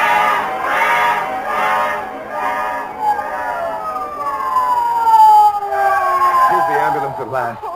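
A siren wails loudly nearby, rising and falling in long sweeping tones, with voices briefly audible near the end.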